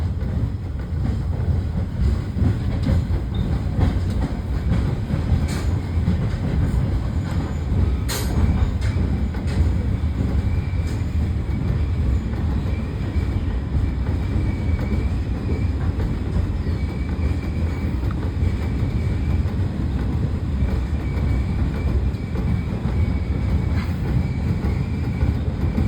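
Steady low rumble of a reversing train heard from inside a caboose cupola at the Illinois Railway Museum, with faint rhythmic clicks and occasional metallic squeaks, continuous and fairly loud throughout.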